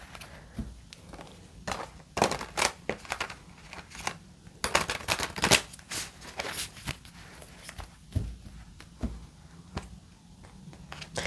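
Light Seers Tarot cards being shuffled by hand, a run of soft papery riffles and slaps in irregular bursts, close up with no talking.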